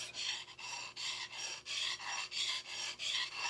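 A gouge chisel is rubbed back and forth on a 45-year-old Norton sharpening stone, giving a steady rasping scrape in about eight even strokes, close and fairly quiet, with no talking.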